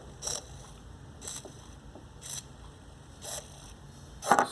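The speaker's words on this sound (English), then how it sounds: "Servo motor running in pulses that are 30 degrees each." An Arduino-controlled servo motor steps in 30-degree pulses, giving five short whirring bursts about a second apart, faint and alone with a steady background hiss.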